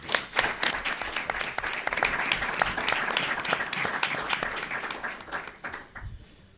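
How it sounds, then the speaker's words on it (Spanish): Warm, strong welcoming applause from a lecture audience greeting a playwright and theatre director, dense clapping sustained for several seconds before tapering off near the end. "vamos a darle un cálido y fuerte aplauso de bienvenida"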